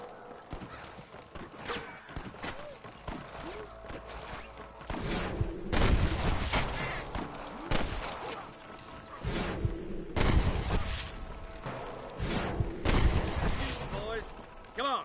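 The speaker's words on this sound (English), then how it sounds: "Gunshots." Gunfire in the Western video game Red Dead Redemption: bursts of shots and booms rise over a busy game mix with hoofbeats and voices, heaviest around the middle and end.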